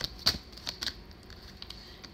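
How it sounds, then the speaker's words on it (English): Tarot cards are shuffled in short, sparse bursts of soft papery clicks and riffles, close and fairly quiet, with a few louder snaps early on and no talking. "no, I'm not done shuffling."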